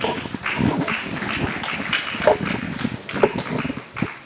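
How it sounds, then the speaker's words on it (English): Audience applause at a book review event, a loose patter of clapping hands that swells and thins over a few seconds, fairly close and without speech. "A round of applause one more time."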